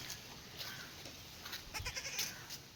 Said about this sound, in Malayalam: നല്ല ആടുകുട്ടിയാണ്